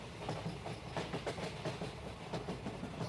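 The Naharlagun Express train running on the rails from Tinsukia Junction produces a continuous rumble with rhythmic clickety-clack wheel beats, heard from on board at a steady, moderate level.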